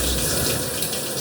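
Water from a shower runs in a steady, loud hiss that fills the whole moment without a break and with no voices over it.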